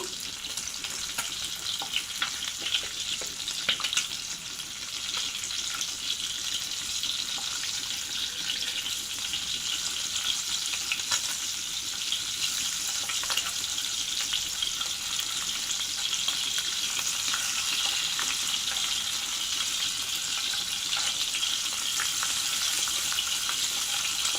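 Sea fish sizzle and spit steadily in an oil-filled pan, a dense, even crackle running loud and close throughout with no voices.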